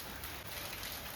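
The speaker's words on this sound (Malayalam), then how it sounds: "പിന്നെയും മഴയാണ് ഗൈസ്. മഴ തോരുന്നില്ല." Rain keeps falling on a rainy day, a brief, even wash of close hiss and patter with no voices.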